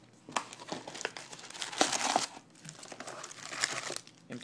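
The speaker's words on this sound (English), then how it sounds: "before I tear the paper off" Paper wrapper being torn off a 2012 Bowman hobby box of baseball cards, a run of close, crisp crinkling and ripping bursts with brief pauses, no talking.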